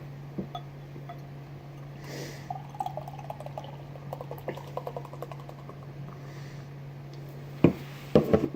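Tree House Sap beer pours into a glass in a quiet room, soft gurgling and liquid trickling over a low steady hum, ending with a few sharper knocks of glass or bottle.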